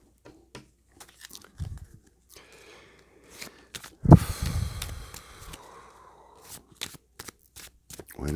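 Playing cards shuffled and handled at a table, a sharp riffle burst near mid-clip amid softer scattered taps and shuffles, close by and otherwise quiet.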